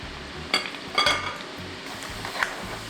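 Battered tofu fries in a pan with a steady sizzle while a utensil stirs it up and down, giving a few soft clinks and scrapes over the close hiss.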